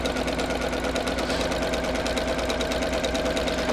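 A sewing machine runs steadily, stitching a French or flat-felled seam in fabric at a long stitch length, with a continuous close whirring hum and no pauses.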